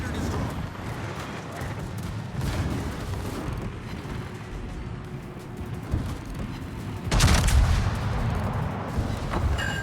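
Naval guns firing and shells exploding in a warship video game, a dense rumbling barrage of booms throughout with one louder close blast near the end, while a voice talks over it.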